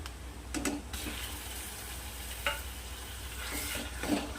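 Ground masala paste sautés with onions in oil in a pan over medium heat, a steady sizzle broken by a few scraping stirs and clinks, close and moderately loud.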